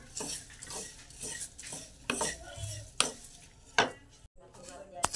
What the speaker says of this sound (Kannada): ಅವಲಕ್ಕಿ ಮತ್ತು ಓಟ್ಸು ಎರಡನ್ನೂ ಸಪ್ರೇಟಾಗಿ ಹುರ್ಕೋತಾ ಇದ್ದೀನಿ.